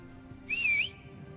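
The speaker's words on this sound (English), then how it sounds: "I whistled my cat and it didn't turn up" A single short rising-and-falling whistle in the Ashes of Creation game, used to call a pet cat, sounding clear and alone over a faint low background hum.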